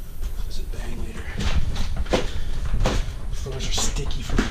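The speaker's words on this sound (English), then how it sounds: "Shut this door." A door being shut inside an abandoned golf and country club building, giving a few hard knocks and thumps with footsteps and room echo, close by and moderately loud, with people talking.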